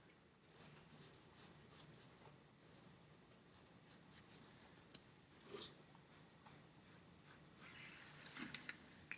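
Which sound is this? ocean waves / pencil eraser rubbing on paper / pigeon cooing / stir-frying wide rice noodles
pencil eraser rubbing on paper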